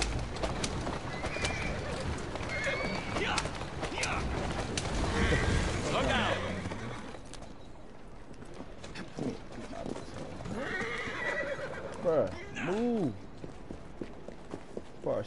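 A horse in Assassin's Creed Syndicate whinnies loudly near the end amid clip-clopping hooves and general commotion, with voices talking earlier.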